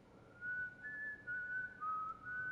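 A character whistles a steady, wavering tune in the horror video game White Day, clear and alone over a quiet background, in a few sustained phrases.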